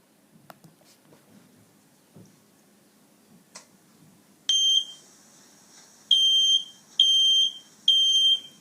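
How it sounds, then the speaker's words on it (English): A home smoke and fire alarm gives four loud, shrill electronic beeps in quick succession, each a sustained tone separated by short gaps, after a stretch of faint ticking and light tapping. "the fire alarm installed in your home starts ringing"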